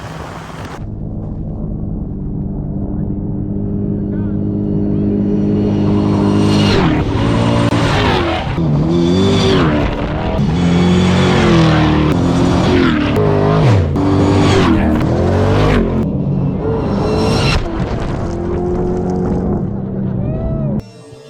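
Off-road race trucks in the Baja 1000 roar past at a race-mile waiting spot, loud engines rising and falling in pitch as they approach and pass, with voices talking beneath the continuous din.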